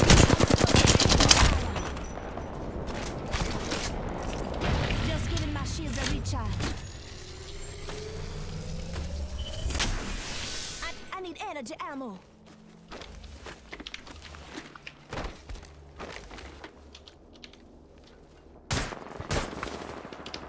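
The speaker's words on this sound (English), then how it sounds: "Listen up, I'm getting shot at." Gunfire in an Apex Legends match: rapid bursts of shots mixed with footsteps and movement, loudest at the start and near ten seconds, then sparse single cracks over quieter ambience.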